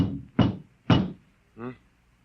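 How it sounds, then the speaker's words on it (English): Two solid knocks on a door in a radio drama, sharp and close in a quiet room, followed by a brief tonal sound. "There was a knock on the door."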